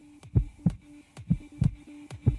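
A slow, steady heartbeat sound effect, deep paired thumps repeating roughly every second over a faint low hum, close and alone with no voices.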